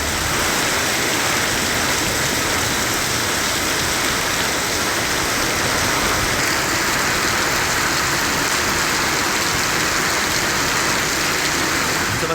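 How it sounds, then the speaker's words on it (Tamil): Heavy rain pours down steadily across the Chengam area of Tiruvannamalai district, a loud, dense and unbroken hiss of downpour that lasts throughout without any voices. "திருவண்ணாமலை மாவட்டம் செங்கம் சுற்றுவட்டார பகுதிகளில் கனமழை கொட்டி தீர்த்தது."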